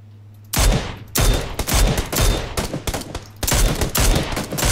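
Gunfire in the video game PUBG: after a moment of quiet, loud close bursts of automatic fire crackle in rapid volleys, pausing briefly and then resuming.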